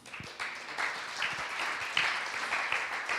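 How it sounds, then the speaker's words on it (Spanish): Church congregation giving loud applause to the Lord during a service, starting with a few scattered claps and quickly building into steady clapping from many hands at moderate distance. "Dale un aplauso fuerte al Señor."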